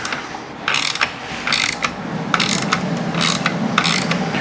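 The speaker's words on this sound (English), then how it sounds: "So I'm removing the four clips on the corners." Torx Plus 20 clips are removed from the corners of a Ford Bronco front grille, giving repeated bursts of ratchet clicking from a hand tool, close and crisp, in several short runs separated by brief pauses.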